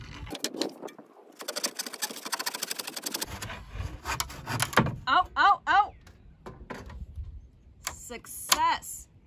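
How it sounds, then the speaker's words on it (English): A handsaw cuts through a wooden board without power tools, with rapid rasping back-and-forth strokes, a pause, then short scraping bursts and a few squeaky strokes, close and loud. "let's get to sawing"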